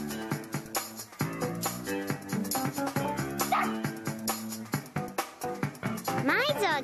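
A cartoon dog yips and barks in short bursts over bouncy children's television music, with voices talking throughout.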